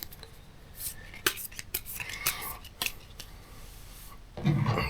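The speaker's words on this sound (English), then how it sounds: "Let me shuffle the cards again" Crisp riffling and snapping of playing cards being shuffled, a series of quick flutters and taps close by, with a louder rustle at the end.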